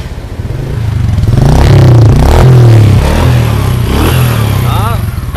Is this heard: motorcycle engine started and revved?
yes